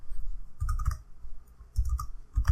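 Computer mouse clicks at a desk while creating a new project in Atmel Studio: a few faint, quick clicks in two small clusters, close by, over a low background hum.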